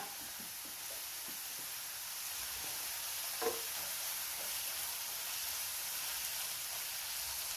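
Crushed ginger, garlic and green chilies frying in hot oil make a steady, soft sizzle with faint stirring, broken by one brief louder clink partway through.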